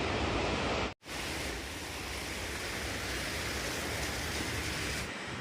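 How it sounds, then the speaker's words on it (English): Mokawanis Cascade waterfall roars as a steady, broad rush of falling water, constant and fairly distant, with a brief cut near the start and no voices. "That is the Mokawanis Cascade."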